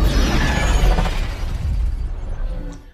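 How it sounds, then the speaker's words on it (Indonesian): A huge energy explosion erupts as a machine is switched on in a Spider-Man story: a loud, deep blast with shattering debris that rumbles and slowly fades over three seconds, with no voices. "Saat mesin diaktifkan, tercipta sebuah energi besar yang sampai menyebabkan sebuah ledakan energi."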